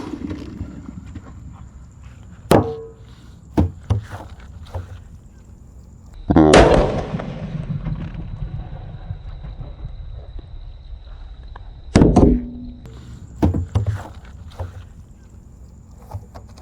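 A firecracker explodes inside a large drum: a loud boomy bang with a resonant, hollow ring, followed later by another sharp booming burst and a few smaller knocks in a quiet space.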